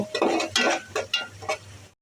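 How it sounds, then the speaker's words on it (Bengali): Onions frying in oil with cardamom, cinnamon and bay leaf are stirred in a pan, five quick scraping strokes with soft sizzling beneath, close and moderately loud before stopping abruptly. "পেঁয়াজ ভাজা হয়ে গেছে"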